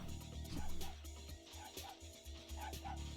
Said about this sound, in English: Hear him barking.